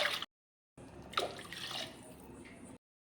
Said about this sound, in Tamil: இப்போ இதில் வந்து ரெண்டு டம்ளர் தண்ணி சேர்த்துடலாம்